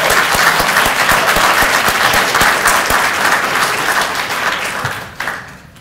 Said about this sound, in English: Please give these rounds of applause.